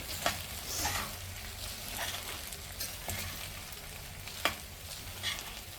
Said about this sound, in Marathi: कोथिंबीर आणि हे सर्व साहित्य आपण छान परतून घेणार आहोत।